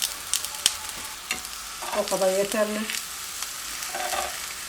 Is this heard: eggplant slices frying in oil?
yes